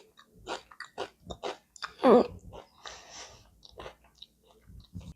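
Crunchy Mexican chili lime snacks are bitten and chewed up close, making a series of crisp crunches with soft mouth noises and breaths between them.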